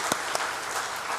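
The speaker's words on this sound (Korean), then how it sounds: "지금까지 인도하신 하나님께 영광의 박수 하겠습니다" A church congregation applauds during Sunday worship, a full, even burst of many hands clapping with a couple of sharper claps standing out near the start.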